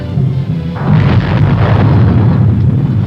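A Nike Hercules missile launches with a loud, deep roaring blast that swells in sharply and holds as a sustained rumbling rush of exhaust, with no voices over it.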